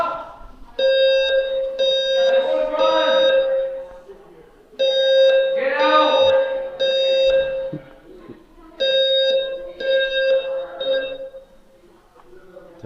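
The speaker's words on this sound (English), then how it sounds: "Testing the fire alarms." Fire alarm under test inside the Disneyland Hotel, sounding in repeated bursts of a shrill electronic tone with short gaps between them, loud and close in an indoor space.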